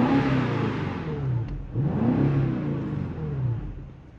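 A BMW X5M in sport mode revs hard, its engine and exhaust rising and falling in two or three loud, close roaring sweeps that carry a deep exhaust note.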